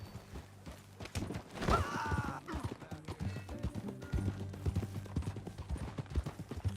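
Horse hooves clip-clop at a steady walking pace across ground in Red Dead Redemption 2, fairly close and moderately loud, with a short whinny early on and faint game voices around.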